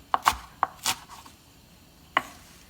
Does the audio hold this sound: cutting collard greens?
yes